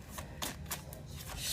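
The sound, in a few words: shuffling a deck of tarot cards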